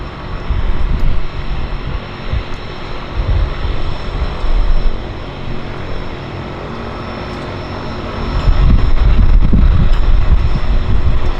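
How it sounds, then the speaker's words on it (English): A Harbour Air floatplane taxis in at a downtown harbour, its propeller engine droning steadily at a moderate distance with gusty wind buffeting the microphone and a louder swell near the end. "here comes our Harbour Air taxiing in"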